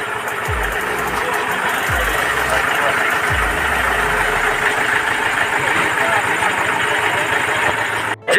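Engines of cars, bikes and trucks idle in a stalled traffic jam on the Chandigarh–Manali highway: a low, close rumble with a few heavy thuds early on, under a steady wash of traffic noise.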